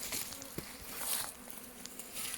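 Honeybees hum around an open beehive during a hive check. The soft, continuous buzz of many insects is close by, with a faint tap or two and no talking.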